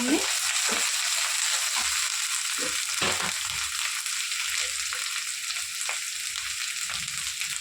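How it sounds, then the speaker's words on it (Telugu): Ginger garlic paste fries in a pan with a steady, close hiss of sizzling oil, punctuated by a few light stirring scrapes and knocks. "అల్లం వెల్లిగడ్డ పేస్ట్ టేస్ట్ కోసం ఫ్రై వేసుకొని"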